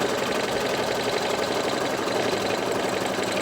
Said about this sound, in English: This is just another tack down stitch.